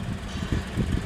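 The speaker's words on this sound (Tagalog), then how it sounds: "ingay ng makina" Suzuki DA16T 4x4 automatic mini truck engine running with a low, steady rumble and slightly pulsing idle, close and continuous with some wind noise.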